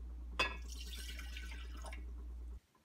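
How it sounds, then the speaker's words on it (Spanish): Water runs steadily into a cooking pot on a stove, a sharp splash at the start followed by an even, close pouring stream that cuts off abruptly near the end. "Ponga el agua en la olla en la estufa."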